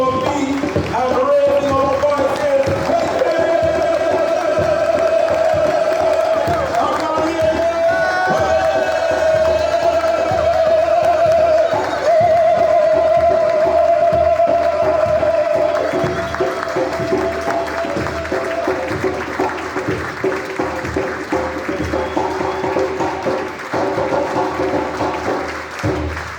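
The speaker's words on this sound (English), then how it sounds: "Let us make some noise by clapping our hands and stamping our feet and raising our voices." A London Pan-African rally audience claps, stamps and cheers in a loud, sustained roar that fills the hall, with a voice ringing out above the crowd throughout.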